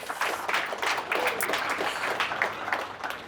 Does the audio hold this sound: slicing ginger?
no